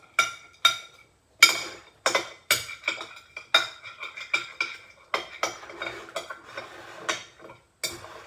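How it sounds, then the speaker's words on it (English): A regular spoon stirs in a kitchen dish, giving a steady run of close, light clinks and scrapes against the bowl with short pauses between strokes. "I'll just use a regular spoon to do stirring"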